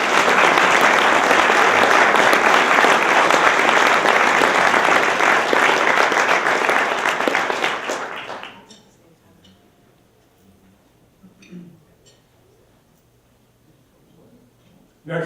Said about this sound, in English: Let's give a round of applause to the Hartford Courant.